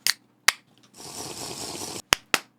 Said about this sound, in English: Why do I always clap?